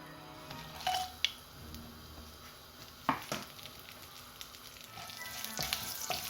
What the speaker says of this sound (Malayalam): സ്പൈസസ് ആദ്യം നമുക്കതൊന്ന് ഇട്ട് കൊടുക്കാം. എണ്ണ ചൂടായിട്ടുണ്ട്.